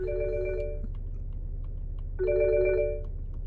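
An incoming call rings through a BMW X5/X6 F15 F16 with an aftermarket 12.3-inch Android touch-screen dash, two bursts of an electronic ringtone separated by a pause, heard clearly over a steady low cabin hum.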